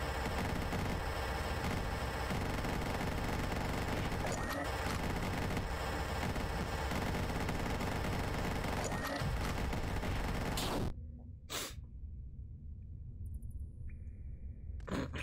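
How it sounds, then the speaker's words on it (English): A minigun in the game Dungreed fires a long, dense stream of rapid shots for about eleven seconds, loud and unbroken. After that the shooting stops and only a few isolated blasts and electronic effects break out over a quieter background. "Enbirok, meet my mini gun."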